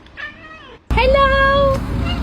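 A house cat gives two drawn-out, talkative meows, the second loud and close. A person's voice can be heard around them.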